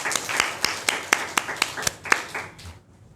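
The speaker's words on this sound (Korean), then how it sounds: "자, 우리 친구들 다 잘했다고 우리 박수 한번 하겠습니다." Children and a church congregation at a Sunday service clap in unison, about ten sharp, evenly spaced claps in a steady rhythm before the sound drops away.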